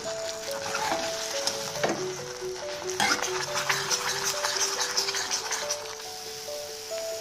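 Thick masala paste for Kashmiri dum aloo fries in a pan, a steady close sizzle and bubbling with occasional stirring scrapes, heard alone under a faint tonal background.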